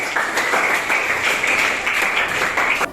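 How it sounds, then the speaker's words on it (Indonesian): Applause in a classroom for a student named Ira after her reading, a brief burst of clapping from a group that holds steady and then cuts off abruptly. "sekali lagi beri tepuk tangan untuk Ira"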